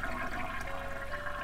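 A toilet flushes in the video game Phantasmagoria, a steady rush of gurgling, draining water heard close and alone.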